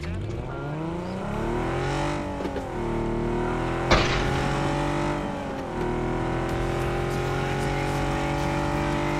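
A car in PUBG drives steadily, its engine droning and rising in pitch as it accelerates, with one sharp bang partway through and a voice talking over the continuous engine note.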